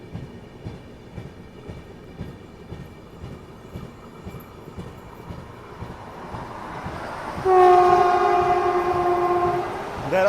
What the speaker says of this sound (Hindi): आ गई वंदे भारत एक्सप्रेस की